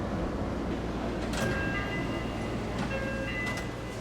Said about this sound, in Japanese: そこに、先ほどの線路からやってきた列車が到着です。